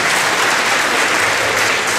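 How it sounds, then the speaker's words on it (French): Applause from an academic audience at a law school lecture, steady and dense throughout, filling the room with continuous clapping and no talk over it. "le professeur Laurent Walkens, que je vous invite à applaudir."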